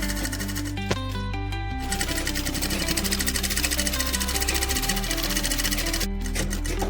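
Sewing machine running steadily while stitching a straight seam with thread, a continuous close mechanical whir with a rapid needle rhythm and a brief pause near the middle, no talking.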